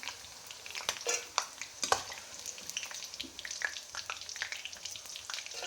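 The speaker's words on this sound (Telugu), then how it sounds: "కాకరకాయ ముక్కలు వేగినాయండి ఇవి చేసి మళ్ళీ వేసుకోవాలి" Bitter gourd pieces fry in a pan, giving a close, crackling sizzle broken by frequent bursts of scraping and stirring.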